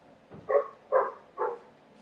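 A dog barks upstairs in a house, three muffled, evenly spaced woofs a short distance away, with no one talking.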